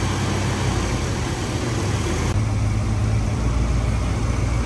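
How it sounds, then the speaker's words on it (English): A 1977 Chevrolet C10 pickup with a 454 V8 fitted with Holley Sniper 2 EFI idles steadily up close, a continuous low rumble with no talking. "It was idling high, so I had to adjust the primary screw, but now it's idling great."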